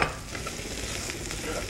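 Minced garlic and ginger sizzle steadily in a hot pan, a dense crackling hiss with faint clinks of stirring, close and alone.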